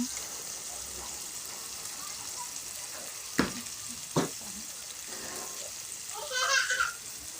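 Garlic sizzling in melted margarine in a pan for chicken tofu sisig, a steady soft fry with a few sharp clicks and a brief louder burst near the end, no talking.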